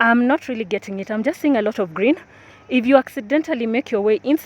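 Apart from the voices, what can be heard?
No everyday noises stand out.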